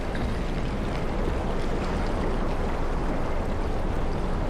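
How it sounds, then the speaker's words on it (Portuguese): Strong wind roars over water in the video game SOMA, a dense, steady rushing noise with no breaks, loud and close, with no voices. "Nossa, tá muito vento aqui na água."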